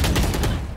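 A brief rapid burst of gunfire in the shooter game Valorant, sharp close shots in quick succession that tail off within a second, with no talk.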